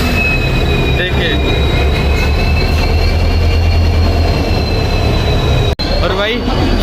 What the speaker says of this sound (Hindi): 5:01 हो रहा है और अपनी गोवा एक्सप्रेस आ चुकी है WDP 4D के लोकोमोटिव के साथ।